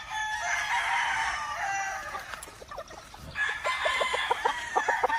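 A green-legged lemon gamefowl stag crows loudly nearby in a long drawn-out call, then clucks and short crowing notes follow from other farm fowl.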